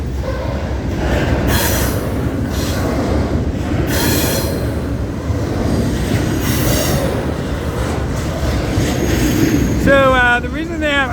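A Florida East Coast intermodal freight train passes close and loud, wheels grinding and squealing continuously with rhythmic clatter, sharp screeches near the end, while someone speaks over it.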